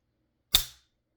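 A Geissele SSP rifle trigger pulled slowly breaks with a single sharp click, close and alone, with a short decaying tail and no creep before it.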